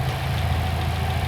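A car engine with a newly installed turbo kit idles steadily on its first start, a close, even low rumble with a slight rhythmic pulse throughout.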